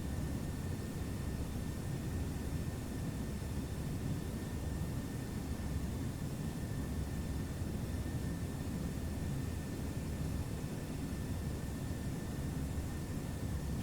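A Boeing 757 airliner on a fully manual landing in a flight simulator game, amid stormy weather, gives a steady, loud broadband engine and wind rumble that holds evenly throughout, with no talking.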